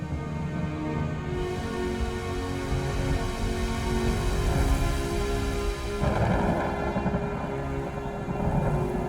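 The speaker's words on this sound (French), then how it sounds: "Un orage se prépare." Thunderstorm over the Mekong region, with steady heavy rain hissing on surfaces throughout and deep rolling thunder rumbling underneath, swelling in the middle before the downpour intensifies.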